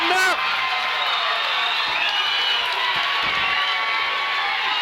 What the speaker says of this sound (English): The crowd responds.